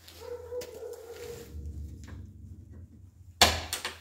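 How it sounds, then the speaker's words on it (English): A rescued German shorthaired pointer growls in a low, steady rumble close by, with a sharp louder noise breaking in near the end. "He's growling right now."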